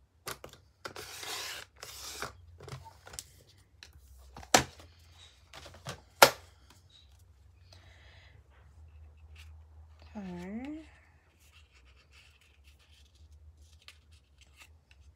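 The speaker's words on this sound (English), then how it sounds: "Just cut that with the scissors." Scissors cut paper scraps for a scrapbook page in a few sharp close snips with light paper rustling, and a voice speaks briefly over the quiet work.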